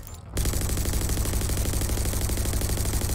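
A grav dart launcher in Rage 2 fires in a rapid, continuous stream of loud mechanical bursts. It kicks in abruptly after a brief quiet start and keeps a steady, relentless rhythm, with no voices.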